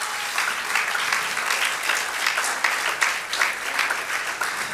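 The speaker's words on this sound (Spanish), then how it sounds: "Oh, así, Señor, aplaudimos fuerte." A church congregation applauds loudly during a Spanish-language worship service, a dense, steady clapping that holds for several seconds without pause.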